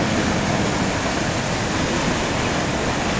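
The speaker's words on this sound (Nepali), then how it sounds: "अहिले चाहिँ खोला यहाँ ठोकिएर चाहिँ उतापट्टि हानिएको" Floodwaters of the swollen Rapti river in Hetauda surge against an embankment dam beside a bypass road, a steady, loud, unbroken roar of rushing water that fills the whole moment.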